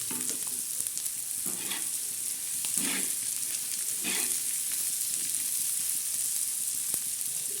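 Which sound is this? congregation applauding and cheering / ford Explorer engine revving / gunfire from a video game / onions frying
onions frying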